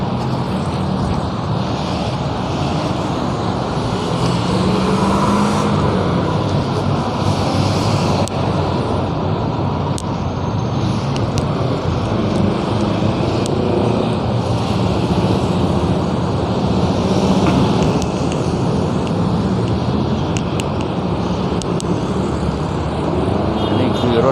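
Congested street traffic during the morning rush, a dense, steady roar of many engines and tyres lasting the whole stretch, with a few swells as vehicles pass close and faint speech-like sounds mixed into the din.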